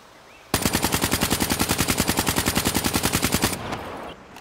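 A KN-44 rifle with no attachments firing in the video game Black Ops 3: one loud, continuous, evenly paced full-auto burst of about three seconds, with no talking over it.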